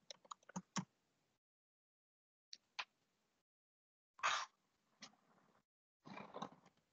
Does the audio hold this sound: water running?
no